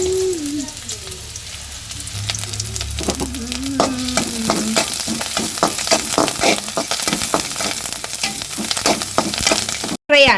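Green chicken kebab frying in a pan: steady close sizzling with repeated stirring and scraping, a voice briefly audible near the start.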